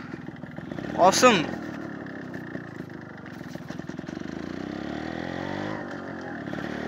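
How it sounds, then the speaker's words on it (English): A customised Yamaha RX 135 café racer motorcycle runs with a steady, buzzing two-stroke beat, rising briefly in a rev near the start, then holding even. Someone talks over it. "Hope you are loving the firing of this bike."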